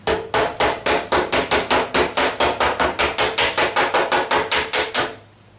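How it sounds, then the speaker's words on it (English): A hammer strikes the dented backing plates of an old Volkswagen Beetle, about twenty-five sharp metallic blows at a fast, even rhythm, loud and close. The blows stop abruptly near the end. No one talks. "I'm going to try to straighten out some of these dents."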